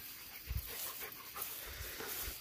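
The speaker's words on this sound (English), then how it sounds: "But this is truly a beautiful dog." German Shepherd or Malinois panting outdoors at night, a steady rhythmic breathy huff close by, fairly faint against a constant noisy background.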